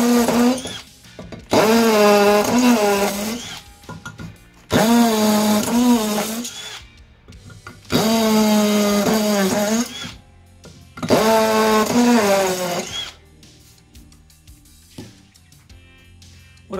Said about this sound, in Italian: Vediamo con la percussione.